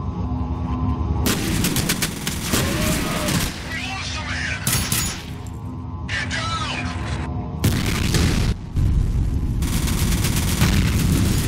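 Heavy, loud gunfire in the F.E.A.R. video game, with repeated bursts and booming shots filling the whole stretch, while a voice talks underneath.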